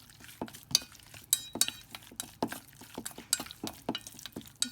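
A spoon rapidly stirring chicken in a bowl with wine, salt and cornstarch marinade, producing a steady run of quick, close clinks and taps against the dish, fairly quiet with no voices.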